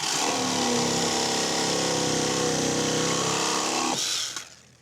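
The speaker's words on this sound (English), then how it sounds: "Somebody said about using a reciprocating saw. So you just get it in there" A reciprocating saw cuts through a bolt on a house build in a loud, steady, close buzzing drone that runs for about four seconds before the blade stops and the sound dies away.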